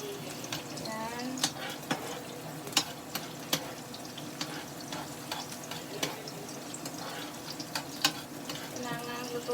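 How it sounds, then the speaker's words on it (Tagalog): Onion fries in a pan with a continuous low sizzle broken by scattered sharp pops and crackles, and a voice speaks now and then over the cooking. "Kailangan lutuin muna ng mabuti yung onion."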